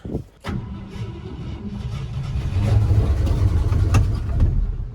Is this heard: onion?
no